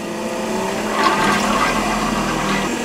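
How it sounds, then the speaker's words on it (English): A sailboat toilet flushes through a macerator pump that grinds the waste before pumping it out to sea, giving a close, steady whirring and gushing rush that swells briefly and then holds. "There's a pump here called a macerator pump. When we push that, it actually has a blender in the bottom of the toilet"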